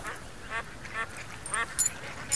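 Ducks quack in several short bursts, a pair of ducks being sold at a village market, with faint sharp chirps near the end and no talking.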